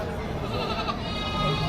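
Goats bleat at a busy livestock market, loud, close and nasal, under a thick layer of crowd noise and people talking nearby.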